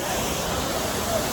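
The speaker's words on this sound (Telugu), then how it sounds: "Chiyapara waterfall." Chiyapara waterfall beside the road at the entrance to Idukki, a steady broadband rush of falling water that holds at an even level throughout.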